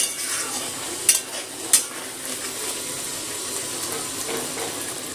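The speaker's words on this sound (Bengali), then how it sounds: "গরম মশলা আর ধনে পাতা কুচিটা একটু পটলের সাথে মিশিয়ে নিয়ে একটু ফুটিয়ে নেব" Pointed gourd with garam masala and chopped coriander leaves bubbles and sizzles in oil over raised heat, a steady low hiss with two sharp clicks of a utensil early on.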